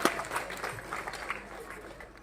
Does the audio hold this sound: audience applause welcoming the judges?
yes